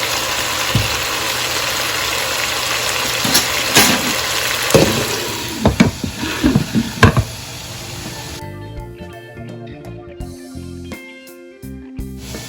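Bottle gourd pieces cook in their own steam in a covered pan on a stove, giving a soft steady sizzle with scattered pops and clinks of a utensil before quieting to a faint hiss.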